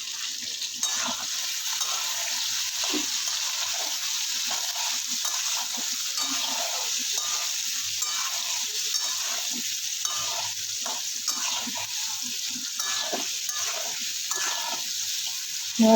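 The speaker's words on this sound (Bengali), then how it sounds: "আলুগুলো একটু ভাজা ভাজা করে নিতে হবে" Potatoes seasoned with salt and turmeric fry in a pan with a steady, close sizzle, while a spoon scrapes and stirs them in repeated strokes throughout.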